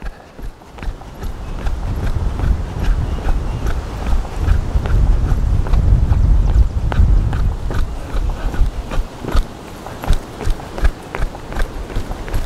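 A ridden horse's hooves clip-clop steadily in a pen, close and prominent, with a rumbling stretch midway before the rhythmic footfalls grow sharper and more distinct toward the end.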